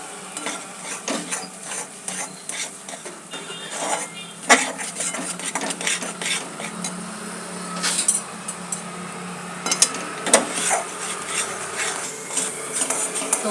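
Date halwa being mixed with milk cream in a pan, a spoon clattering and scraping against metal in busy, irregular strokes with a soft sizzle underneath.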